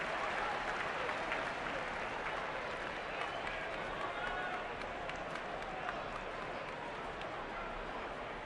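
A large crowd at Wrigley Field applauds and murmurs through a Cubs home game against Cleveland, a dense, continuous wash of clapping and chatter that holds at an even level.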